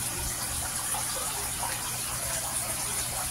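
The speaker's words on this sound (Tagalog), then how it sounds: "Sa lakas ng pressure nitong siritong tubig dito sa harapan, pumutok yung ilalim." Pressurized jet of water gushing steadily into an aquarium tank, a continuous broadband hiss and rush with no talking over it.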